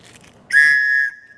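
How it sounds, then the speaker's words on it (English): An emergency whistle from a cheap survival kit gives one short, shrill, piercing blast lasting about half a second, loud and close against a quiet background. "Emergency whistle."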